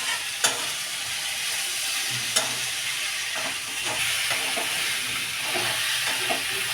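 Figs, potato and prawns are sautéed together in a pan, with a continuous hissing sizzle broken by a few sharp spatula clacks and stirring scrapes, with no talking.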